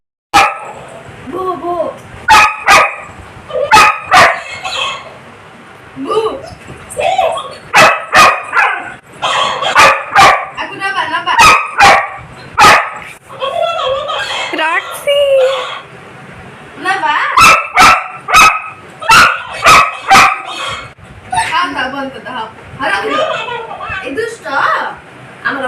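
A dog barks repeatedly in sharp, loud bursts through the whole stretch while people talk steadily underneath.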